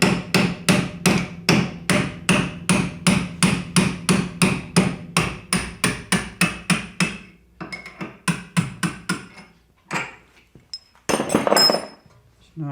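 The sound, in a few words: hammer bashing bolt out of MGB shock absorber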